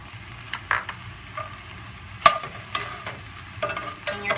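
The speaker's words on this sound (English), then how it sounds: "you're going to want to saute this for maybe like 2 to 3 minutes until the onions are translucent" Half a medium diced onion sautés in a pan over medium-high heat, a steady sizzle punctuated by scraping and clicking stirs of a utensil, close and moderately loud.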